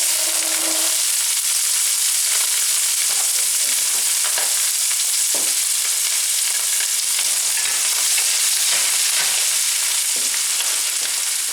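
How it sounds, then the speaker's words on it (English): Steady, bright sizzling of chickpeas frying in a hot skillet, a constant crackling hiss with occasional stirring scrapes, no voices. "Into the same skillet, I'm going to add the chickpeas. Get ready for a sizzle sound."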